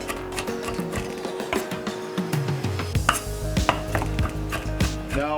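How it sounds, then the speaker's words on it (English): A knife chops artichoke on a cutting board for a spinach artichoke dip, giving a steady run of sharp, close wooden knocks, with faint kitchen clatter underneath and no talking. "chop the artichoke."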